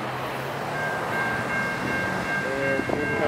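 A Norfolk Southern eastbound freight rumbles past near a rail control point, a steady loud roar of rolling wheels with a faint tonal whine and a brief horn-like tone near the end.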